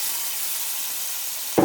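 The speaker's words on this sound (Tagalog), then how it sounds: "Tsaka ilagay na natin itong ating atay." Chicken liver sizzling with garlic in a hot pan, a steady bright frying hiss throughout, ending in a sudden louder spit and crackle as the liver drops in.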